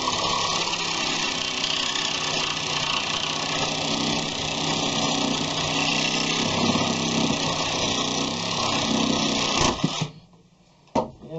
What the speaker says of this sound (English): I'm just wanting to cut these nails that are holding this into this bottom beam here